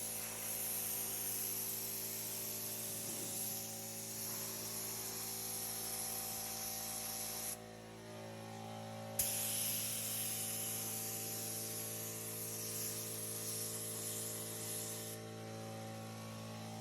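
Spray gun laying down 2K primer fed by a 20-gallon air compressor, a steady loud hiss over a constant mechanical hum, cutting out briefly midway before resuming.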